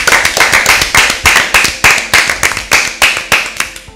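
An audience at a Bible quiz gives a short burst of rhythmic clapping, loud and close, in even beats that fade at the end.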